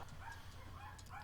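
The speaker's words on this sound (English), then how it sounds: "Excuse the dogs in the background." Dogs barking in the background of a home room, a few faint distant yips and barks coming in short bursts over a low steady hum.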